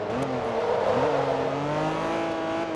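DTM race cars scream around the Nürburgring, their engines revving loud and continuous as they pass close by, the pitch rising and falling with gear changes.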